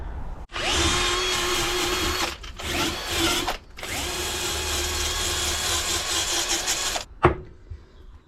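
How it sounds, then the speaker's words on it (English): A power-driven wire wheel scours old Mercedes bolts, with WD-40 as cleaner, in several loud, sustained grinding runs broken by short pauses, close and without talk. "This is what 10 minutes with the wire wheel and some WD-40 can do."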